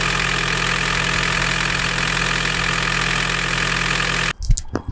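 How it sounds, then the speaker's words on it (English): A diesel VW MK2 Golf GTD sits idling before a compression test, a steady, close mechanical drone that holds evenly, then cuts off near the end and gives way to a few brief clunks. "we're going to crank it over, leave it running for a couple of minutes"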